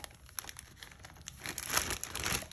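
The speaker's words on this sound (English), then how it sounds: "So we're going to put them in this plastic bag." Flaky biscuits being put into a plastic bag make continuous crinkling, rustling plastic sounds. The sound is close, grows louder toward the end and runs without speech.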